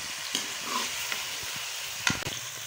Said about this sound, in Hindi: मिक्स करते रहना, हलाते रहना है।